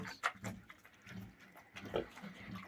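A Vietnamese pot-bellied pig, a sow kept on a farm, gives a few soft, short grunts close by, quiet and irregular, with faint background rustling.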